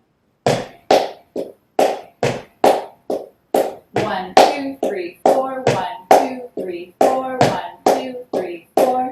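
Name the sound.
flamenco palmas hand clapping, tangos rhythm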